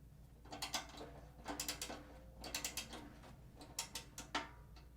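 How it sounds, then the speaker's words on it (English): A Gibraltar SC-RK medium weight drum ratchet key being turned, quick bursts of crisp clicking in short groups separated by pauses, close and clear. "It's a medium weight drum ratchet key"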